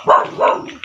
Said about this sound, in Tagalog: Ah, daming aso nila dito.